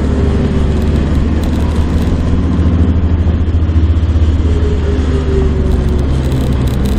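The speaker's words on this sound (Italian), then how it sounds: "Ma senti che rumoraccio che fa quella moto." A loud motorcycle engine drones steadily throughout, rumbling close by with a constant low roar and no break.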